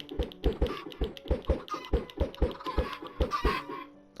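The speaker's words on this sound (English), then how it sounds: "Look at all those chickens." Chickens cluck in the Minecraft video game in a quick, regular run of short, fairly loud taps and clucks that repeat steadily over about four seconds, with no talking.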